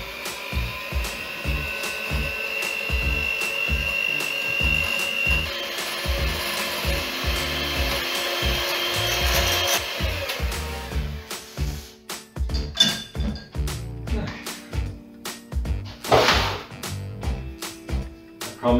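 Espresso caramel ice cream base being mixed to a softly whipped consistency, a steady whirring mixer for about ten seconds followed by scraping and tapping of a utensil against the bowl.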